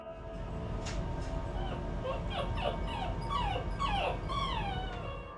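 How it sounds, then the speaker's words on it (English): A frightened dog whimpers and yips in a run of high, wavering cries, fairly near, over a steady low rumble of background noise. "Even the dog is afraid."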